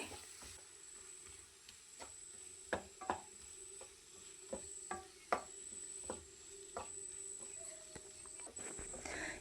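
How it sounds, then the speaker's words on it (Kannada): A spoon stirs a spice mixture with cumin powder in a pan for aloo paneer masala, giving irregular scraping clicks and taps over a faint, steady sizzle. "ಈಗ ಇದನ್ನು ಒಂದು ಸ್ವಲ್ಪ ಹೊತ್ತು ನಾನು ಚೆನ್ನಾಗಿ ಮಿಕ್ಸ್ ಮಾಡ್ಕೊಳ್ತೀನಿ"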